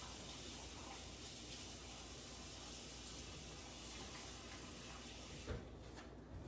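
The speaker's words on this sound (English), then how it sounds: "gonna put some water in them now so I don't forget" Tap water running steadily into a pot of diced potatoes, a continuous close hiss and splash that stops abruptly near the end.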